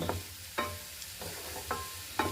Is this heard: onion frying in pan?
yes